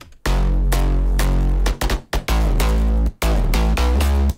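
A heavily processed future house bass layered with deep sub bass plays alone in loud, sustained pulses with brief gaps between phrases.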